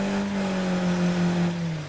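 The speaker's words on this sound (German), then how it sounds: "Auto hört sich nicht gut an bei mir." A car engine drones steadily in State of Decay 2 during driving, a loud sustained hum with a slight pitch drift and no talk over it.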